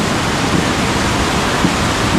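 Floodwater rushes through a creek during heavy rain, a loud, steady broadband roar that holds without a break from start to finish, with no voices.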